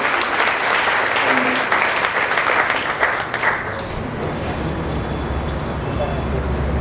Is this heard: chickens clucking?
no